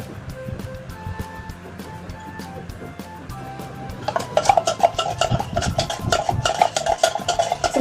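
An avocado graham float mixture with condensed milk is stirred in a bowl, quiet at first under a soft hum, then a busy run of loud scraping, clinking strokes for the last few seconds.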